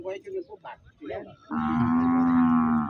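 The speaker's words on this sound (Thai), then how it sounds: "โอ้มันนี่มีควายนะครับ" A water buffalo lows once at a rural livestock market in Borabue, Maha Sarakham, a loud, sustained bellow lasting over a second that follows a stretch of market chatter and voices nearby.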